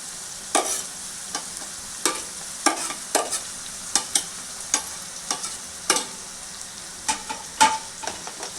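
Mutton curry with green chillies, mint and turmeric stirred in a hot pan, a steady run of sharp spoon scrapes and clanks every half second or so over a low sizzle, close and alone.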